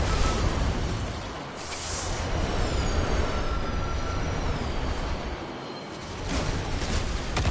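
Trains rumble past in Destiny 2, a steady broadband roar of rolling railcars with faint squealing wheel tones, dipping briefly twice before swelling again, with no talking.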